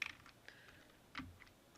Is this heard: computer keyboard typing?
yes